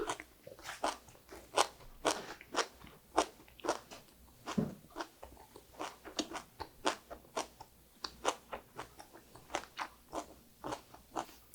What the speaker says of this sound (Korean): 시금치를 딱 3분만 했는데 완전 아삭아삭해요.